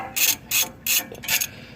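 Long bolt being unscrewed and drawn out during a brake and rotor change on a 2003 Lexus GX470, four short grinding, rasping strokes in an even rhythm, close and fairly loud.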